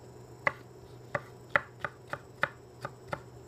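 A knife strikes a cutting board about eight times in an uneven rhythm, crisp close chops while slicing peppers into tiny strips, with no talking.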